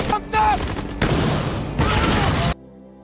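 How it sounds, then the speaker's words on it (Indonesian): Film battle scene with bursts of gunfire and several grenade launcher shots fired at an enemy position, loud and close, coming in three heavy, dense blasts that end abruptly. "Tim pun membalas dengan melepaskan pelontar granat beberapa kali ke titik musuh."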